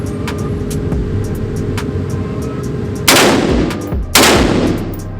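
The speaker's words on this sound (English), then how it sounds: "there is boom, real loud. It's a cannon for real." Two loud, close handgun shots ring out a second apart at an outdoor gun range, each with a sharp crack and a lingering decay, over a background of fainter distant shots from other shooters.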